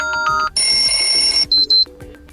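A bright electronic alarm ringtone melody from a Xiaomi 11T Pro phone plays in short bursts, loud and close, with brief gaps between phrases.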